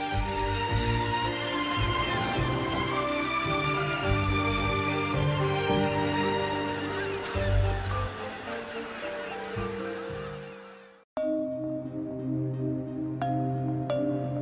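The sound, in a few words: migratory birds, geese calling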